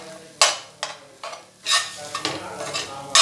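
A spoon scrapes and stirs kadalai kuzhambu, a chickpea curry, in a pan just taken off the stove, making several distinct strokes with a faint sizzle and no talking.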